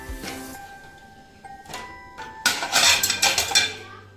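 Plates and cutlery clinking as dinner is set out, with veg fried rice and manchurian being served, scattered clinks early then a busy, loud burst of clattering dishes near the end, no talk.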